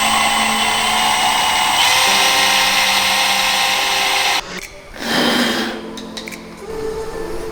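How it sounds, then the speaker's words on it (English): Power drill boring into a brand new intake manifold for 1/8 inch NPT bungs, a steady high whine for about four seconds, then a brief pause and a shorter rougher burst of drilling. "drilling into our brand new manifold so we can add our 1/8" NPT bungs for our map sensor and vacuum line"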